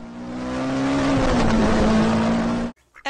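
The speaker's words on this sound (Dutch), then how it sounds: "10 is een auto, die uit rijden gaat." A car engine revs up loudly and steadily as the car drives off, the pitch climbing and then dipping slightly, before cutting out abruptly into near silence.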